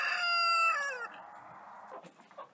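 A rooster crows loudly once, a long cock-a-doodle-doo up close, followed by softer farmyard clucking and rustling.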